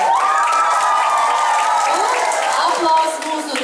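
Audience applause and cheering at a school Christmas show for third and fourth graders, a dense, steady wash of clapping with children's voices mixed in, sustained throughout and dipping slightly near the end.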